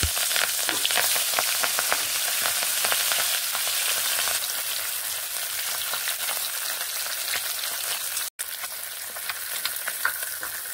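Pieces of katla fish frying in hot oil in a kadai, a loud, dense, steady crackle and spatter that continues without a break, no voices.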